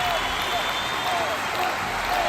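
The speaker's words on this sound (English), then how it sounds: "Round of applause for Hobbiton" A studio audience claps for Hobbiton, New Zealand, during a quiz show, a steady, dense patter of applause that stays loud and even through the short stretch, blended with a faint tonal hum.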